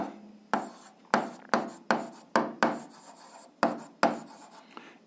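A pen scratches out an algebra solution on paper in short, separate strokes, about ten quick rasping marks in an uneven rhythm, close and quiet with hushed pauses between them.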